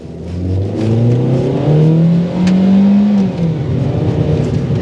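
The four-cylinder engine of a Nissan Tiida accelerates on the road, heard from inside the car. Its drone rises steadily in pitch, dips briefly as it shifts, then climbs again under a constant whirring hum.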